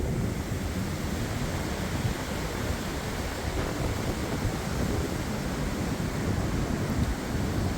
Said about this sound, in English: This quite a big gust, this one.